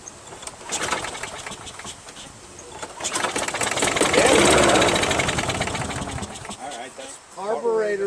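A Craftsman Quantum self-propelled lawn mower with a dirty carburetor is pull-started after priming, giving a loud sputtering crank and a brief rough engine burst that swells and fades, with people talking over it.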